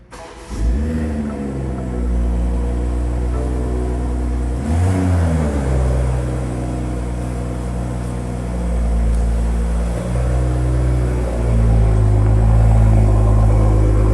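A Thundernight Metallic 2022 BMW M240i coupe, a pre-production G42, revs its engine indoors, the loud rumble rising and falling in repeated blips with echo off the surrounding walls, sustained throughout with no talking.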